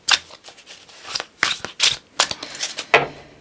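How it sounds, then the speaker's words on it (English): Tarot cards are shuffled by hand in quick, crisp riffling bursts, several close rustling flurries in an irregular rhythm. "And I want to do a little bit of shuffling."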